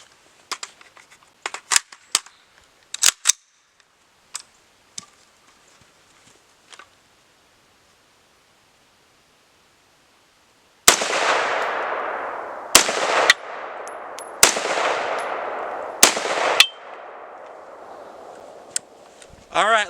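Rifle shots fired at a CrossFit plate with .223 Remington and 5.56 green-tip rounds, heard as several sharp, loud cracks, some far-off faint reports early on and a cluster of close, heavy blasts later.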